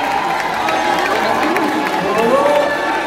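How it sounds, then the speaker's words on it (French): A crowd cheers and shouts steadily for Mélanie, a dense, loud wash of voices with scattered whoops and some clapping mixed in, running without a break. "On continue les applaudissements pour Mélanie"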